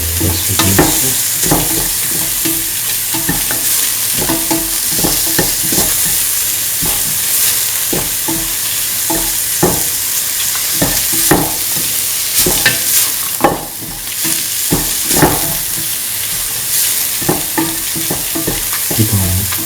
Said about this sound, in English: Keep on sauteing until the salt is nicely mixed.